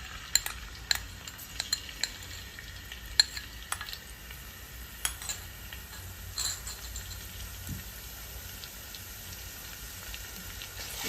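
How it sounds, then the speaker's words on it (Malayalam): Food stirred in hot oil in a pan, a faint continuous sizzle broken by sharp spoon clicks and scrapes against the metal at irregular intervals, close and alone. "ഇളക്കി കൊടുക്കണം."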